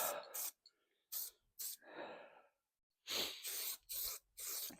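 Mist coat of spray paint applied to a Raleigh Chopper Mk2 bicycle frame, a series of short hissing aerosol bursts with brief pauses between them, close and clear, with a voice heard briefly.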